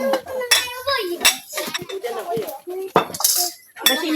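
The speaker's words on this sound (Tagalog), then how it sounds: "Tanggalin natin ito pinggan." Plates and dishes being cleared from a breakfast table in a hut, with scattered clinks of pots, dishes and cutlery close by, mixed in with ongoing talk including a voice.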